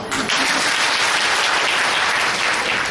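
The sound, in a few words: audience applause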